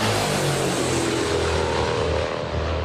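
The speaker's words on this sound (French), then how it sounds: "Le bruit des hélices, elles sont 8, accrochées aux 4 moteurs de ce dinosaure des airs." Eight propellers on the four engines of a Tupolev Tu-95 bomber, a giant Russian aircraft from the 1950s, give a loud, steady, continuous roar and drone with no gaps or pauses.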